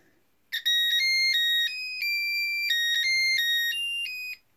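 Bright electronic beeping melody of Happy Birthday from an LED heart kit, clear square-wave notes in a steady tune, fairly quiet and alone after a short pause.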